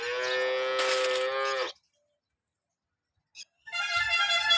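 Cows on a dairy farm moo in two separate calls, a long loud harmonic moo followed by a pause and a second moo, close by with no talk.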